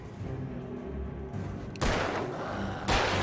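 Gunshots in the Alan Wake video game: two loud sharp blasts about a second apart over a low rumbling ambience, each followed by a brief decaying tail.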